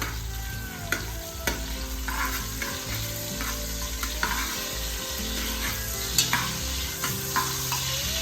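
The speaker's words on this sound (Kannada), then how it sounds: "ಮರಾಠಿ ಮೊಗ್ಗು, ಸ್ವಲ್ಪ ಕಲ್ಲು ಹೂವು, ಸ್ವಲ್ಪ ಪಲಾವ್ ಎಲೆ ಇಷ್ಟನ್ನು ಹಾಕಿ ನಾವು ಫ್ರೈ ಮಾಡ್ಕೊಳ್ಳೋಣ." Whole spices, marathi moggu, stone flower and bay leaf, frying in hot oil for mutton pulao, a steady close sizzle with scattered stirring clinks and scrapes throughout, no talk.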